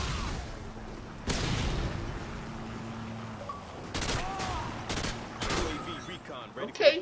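Gunfire from the video game Modern Warfare 2 comes in scattered bursts of sharp shots and booms over a low, steady game background, with louder cracks toward the end.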